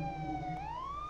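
Police siren on a Chevrolet Caprice police car in a video game, a clear, loud wailing tone that holds and then sweeps upward in pitch.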